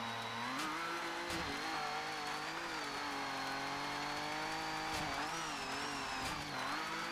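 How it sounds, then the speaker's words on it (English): Super 1600 rally car engines rev and whine loudly and continuously in Colin McRae: DiRT, pitch rising and falling with gear changes, with occasional bumps and tire noise. "These cars sound great, don't they? Super 1600s."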